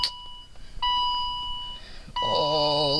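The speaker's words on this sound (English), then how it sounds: "Still beeping at me because the key is an ignition lock." Electronic key warning chimes sound repeatedly inside a quiet BMW E39, a steady tone starting, pausing, then returning as a warbling multi-tone alert.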